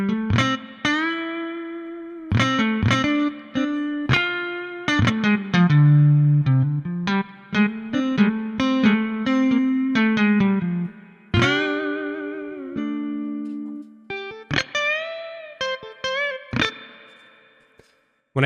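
An electric guitar plays single notes and short phrases through a blues amp plug-in set to light crunch with spring reverb in a 2x12 stereo cabinet, sounding clear and up front, with ringing sustains and brief pauses between lines.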